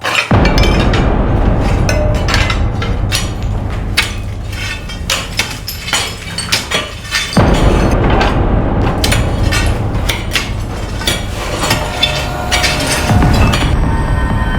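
Digging and smashing through a poor family's broken-down house, heavy clattering impacts and clinking debris running continuously and loudly, with a brief lull midway before the banging resumes.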